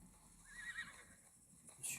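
A horse in the video game Assassin's Creed Valhalla lets out a brief neigh, then a second whinny follows near the end, both fairly faint over a quiet game background.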